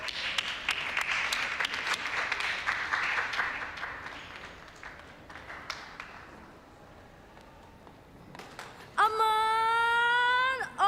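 Applause at a lively art exhibition party, dense clapping for the first few seconds that thins and fades, then a singing voice cuts in near the end.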